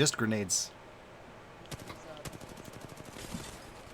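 Rapid bursts of fully automatic Prowler fire from a modded weapon in an Apex Legends match, crackling through the second half after a short stretch of voice, clustered volleys at moderate distance.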